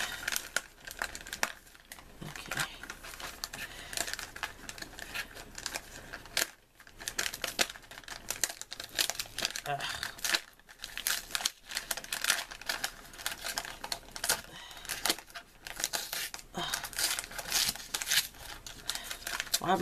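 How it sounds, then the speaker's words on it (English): Decorative wrapping paper crinkles, rustles and tears continuously as a swap package is opened by hand, with brief quiet pauses between bursts of crackling. "Well, I've been trying not to tear the paper because it's pretty, but it ain't working."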